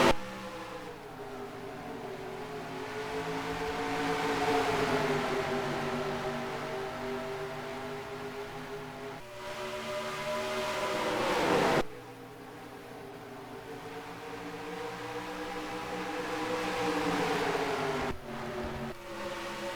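Race car engines roar at Iowa Speedway in a video game during the Menard's 250, a loud continuous engine whine that rises and falls through gear changes, with a sharp cut near the middle and no talking.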